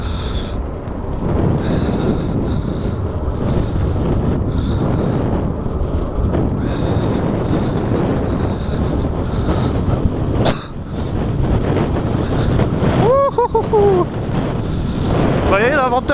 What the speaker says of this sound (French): Nous avons là à peu près 40 km/h de vent.